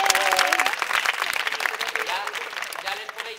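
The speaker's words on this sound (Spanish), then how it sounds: "Un aplauso para ellos." A crowd at a youth tour event in Madrid claps for the parents, a brief burst of applause with excited voices and cheers mixed in, fading toward the end.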